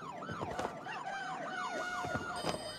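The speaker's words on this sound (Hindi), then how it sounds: "एम्बुलेंस आ रही है." An ambulance siren wails in the video game It Takes Two, a continuous rising and falling sweep mixed with game sounds and fairly faint throughout, with no talk over it.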